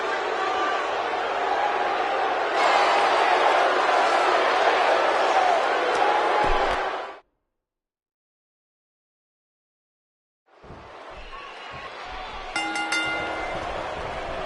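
A large arena crowd at a live WWE Battleground wrestling match roars and murmurs loudly after a pinfall, breaking off abruptly, then a busier crowd din returns with clinking sounds.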